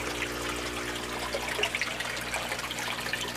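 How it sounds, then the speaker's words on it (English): Water flowing through an aquaponics raft system and siphon in a shaded Phoenix, Arizona setup, a continuous soft trickle and gurgle under a low steady hum, close by. "Got the raft system, and it is definitely flowing nicely."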